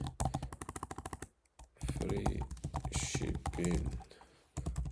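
Rapid clicking keystrokes on a computer keyboard as a prompt is typed, a quick close run of taps that stops, followed by a person talking.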